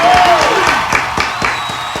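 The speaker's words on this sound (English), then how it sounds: "a big round of applause for him being in the Hall of Fame, ladies and gentlemen" Audience applause and cheering for Jason Kidd's Hall of Fame induction on a comedy talk show, a steady crowd wash of clapping with a whistle and voices mixed in, fairly loud throughout.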